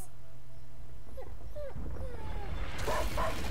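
A dog named Leon whimpers in A Plague Tale: Innocence, faint soft whines and yips over a low steady background that swells louder toward the end.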